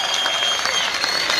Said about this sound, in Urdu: یہ تالیاں پھر گونجنی چاہیے آپ کو اپنے محبوب شاعر کے لیے